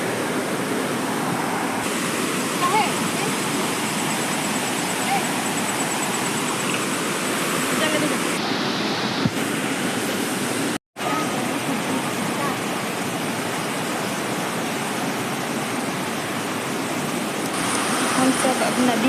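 River water flowing loudly and continuously as a dense steady rush close by, with a brief dropout partway through and people speaking faintly beneath it.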